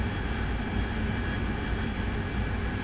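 The jet engine of an AV-8B Harrier in the DCS flight simulator, a steady, continuous roaring whine from the cockpit with a dense low rumble and a faint high tonal hum, unchanging throughout.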